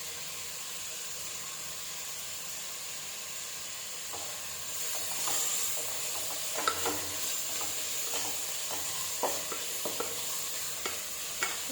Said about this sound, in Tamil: கொத்தமல்லியையும் புதினாவையும் அதில் போட்டு அதையும் சேர்த்து நல்லா வதக்கிப்போம்